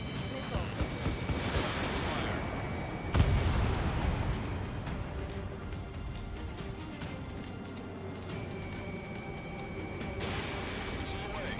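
A fighter jet's missile launches in Ace Combat 7 as a sudden loud whooshing burst that rushes and fades over a few seconds, set against constant engine roar and cockpit beeps.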